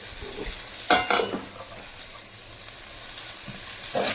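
Onions sauté for a Kerala-style botty curry, giving a soft steady sizzle in a pan with a couple of brief stirring scrapes and clinks, close up and without talk.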